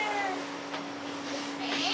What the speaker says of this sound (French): Ce chat qui présente des problèmes de vomissement